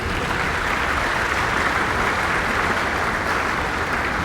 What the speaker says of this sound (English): Let's give a round of applause one more time for the senator.